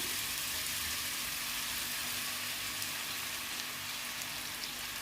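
Mushrooms frying in sunflower oil in a pan, giving a steady, dense sizzle with fine crackling that holds at an even level throughout, close by and with no talk.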